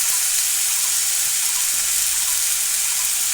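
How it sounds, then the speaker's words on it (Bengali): Sliced potatoes with tomato and green chilli frying in a pan, an even, continuous sizzle with no talk. "আলু কেটে টমেটো দিয়ে লঙ্কা দিয়ে একেবারে একটু কষিয়ে নিচ্ছি"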